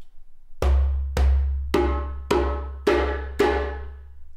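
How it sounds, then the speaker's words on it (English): Six djembe strokes in steady succession, each a sharp hand hit with a deep ringing body that decays before the next, played as a beginner's warm-up scale; close and loud with no voices. "This becomes a really nice practice riff, if you will, for warming up on your djembe."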